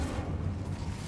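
The Incendio fire spell is cast in the video game Hogwarts Legacy, a dense, roaring burst of flame that fills the whole short moment at steady loudness.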